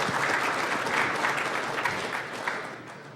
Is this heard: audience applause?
yes